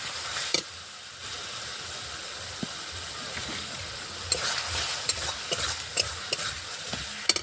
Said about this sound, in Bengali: আমি টমেটো কুচি দিলাম মশলাটা একটু কষিয়ে নিই